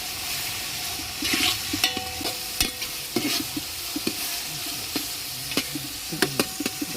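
Onions fry and sizzle in a pan while being stirred, a steady hiss with scraping spoon strokes and clinks repeating throughout, close and moderately loud, during a rushed cooking session.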